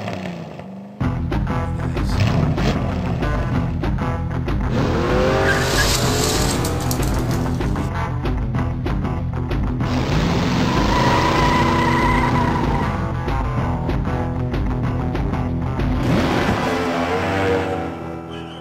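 Monster truck engines roar and rev continuously during an arena halftime show, loud and close, with tires squealing and skidding through long sweeping passes, and no talking over it.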